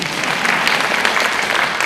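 Audience at a religious discourse bursting into applause, brief dense clapping that stays steady and loud throughout.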